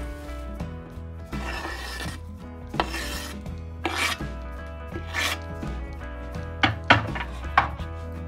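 A spoon stirs bigos, Polish hunter's stew with white wine, in a pot, giving rough scraping and rubbing strokes with a few sharper knocks against the pot's side, steady and close.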